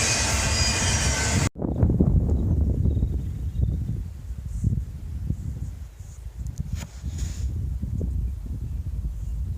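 A train rumbles past at close range at Whiskeytown Lake, with a steady low roar, rattling wheels and occasional clacks, and wind buffeting the microphone.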